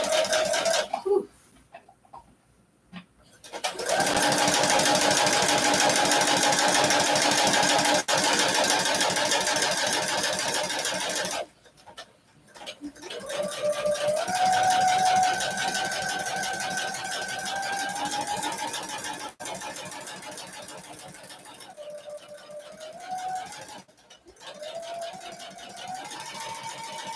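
A sewing machine stitches a reinforced seam, pausing as the presser foot is lifted to pivot. Its moderately loud, steady mechanical whir comes in several long runs separated by brief silences.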